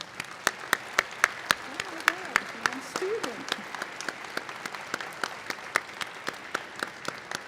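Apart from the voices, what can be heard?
applause at a college commencement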